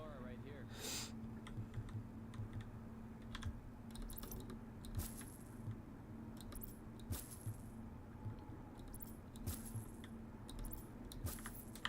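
PC keyboard typing and mouse clicking, heard as scattered soft taps and clicks throughout, low in level beneath a steady background hum.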